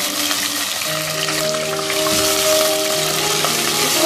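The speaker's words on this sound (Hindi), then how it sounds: "इसी ऑयल में शामिल करेंगे मीट अपना, साथ ही इसमें ऐड कर देंगे 1 टीस्पून लहसुन अदरक का पेस्ट।" Mutton frying in oil with garlic ginger paste gives a steady, close, crackling sizzle that runs throughout, with a faint tonal hum underneath and no talking.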